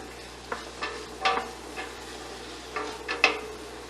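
Chicken pieces sizzle in olive oil in a pan while being stirred, with a soft steady fry hiss under a handful of scraping, clattering stir strokes, close by and moderately quiet, with no talk.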